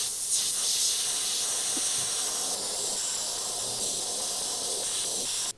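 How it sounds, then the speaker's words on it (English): Airbrush spraying white paint while sketching an evil clown design, a steady airy hiss with brief pauses and restarts, close and clear with no talking. "Just sketching with my airbrush with that white."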